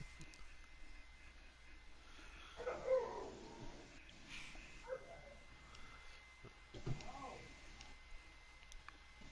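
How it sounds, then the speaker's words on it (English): A dog barking upstairs in a home, faint and muffled, with a few scattered yips and barks heard distantly beneath steady background noise and voices. "And the dog's getting ridiculous upstairs."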